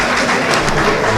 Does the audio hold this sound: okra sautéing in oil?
no